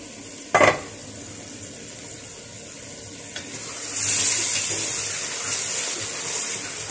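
Bay leaf and cinnamon sizzle in hot oil in a pan with large potato pieces. A sharp clatter comes early, then a steady frying hiss swells and holds, close up, with no talking.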